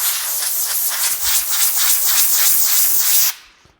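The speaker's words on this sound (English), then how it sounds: "I'm going to take the air hose, and we have this pressure turned down quite a bit" A low-pressure air hose at about 30 psi blows off a freshly sanded napkin holder, giving a loud, steady hiss with pulsing bursts that cuts off sharply near the end.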